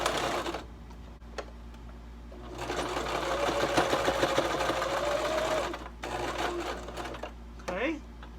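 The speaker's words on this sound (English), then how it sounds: "Sew this down." A Brother LS2400 sewing machine stitches a fabric face mask in steady, rapid mechanical chattering bursts that start and stop, with a person talking nearby during the pauses.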